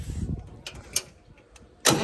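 Vehicle engine starting just after an 855 turbo fitting, with a short cranking burst and a louder catch at the end, preceded by faint clicks and a brief voice.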